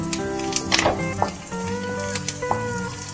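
Chopped tomatoes tumble into a pan of frying onions, setting off a soft, uneven sizzle with occasional wet crackles beneath a steady tonal background.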